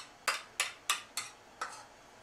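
Five sharp clinks of a utensil striking the side of a bowl while sour cream is stirred into cottage cheese, spaced roughly a third of a second apart and fading slightly, close and clear with no talk.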